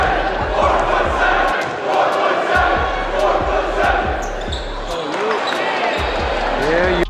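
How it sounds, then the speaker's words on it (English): In a basketball arena, a crowd yells and jeers at a player in rhythmic chants while a ball bounces repeatedly on the court nearby, loud and continuous. "Just listen to this crowd."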